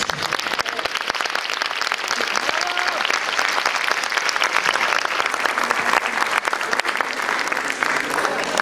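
A conference audience applauding to welcome a priest speaker, loud continuous clapping from a large crowd sustained at full strength throughout, with faint voices mixed in.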